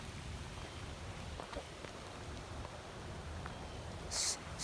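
Rain falls outdoors in a soft, steady patter, faint and even throughout, with a brief hiss near the end and no talking.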